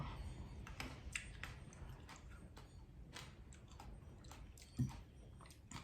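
Someone chews crunchy fresh grapes close up, a steady run of soft wet crunches and bites with a slightly louder bite near the end, no talking.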